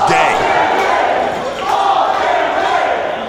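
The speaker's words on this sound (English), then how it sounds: "Listen to that crowd." A packed crowd at a Reality of Wrestling rumble event roars steadily, with dense, loud cheering and shouting that rises and dips slightly but never lets up.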